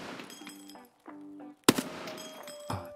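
Gunfire from a video game firefight: one loud sharp shot rings out mid-clip among softer game sounds and ambient tones, with a brief muffled bang near the end.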